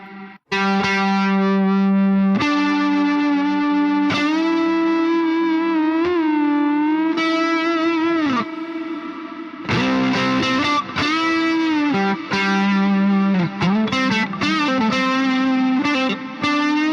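Music run through a free reverb plugin, a sustained tonal melody with harmonic layers, processed with a lush wet reverb and some distortion, loud and continuous with a brief dip midway.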